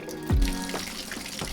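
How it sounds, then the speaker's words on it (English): A pop-up camper's sink faucet opens with air in the lines, giving a brief gurgling sputter and splash of water, close and fairly quiet. "next up is the sink. Definitely some air in the lines."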